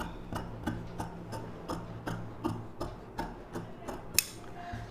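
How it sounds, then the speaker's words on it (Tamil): Scissors snip through silk cotton fabric while cutting the neckline shape for a necklace-neck blouse, a steady series of crisp, close cuts at a regular rhythm with one sharper snap near the end. "நெக்கு ஷேப் கட் பண்ணியாச்சு."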